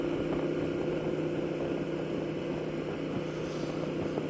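Steady, even drone of a 1999 Moto Guzzi California V11EV engine cruising at freeway speed, a continuous low hum with a faint whine and wind wash, unbroken and with no voices over it.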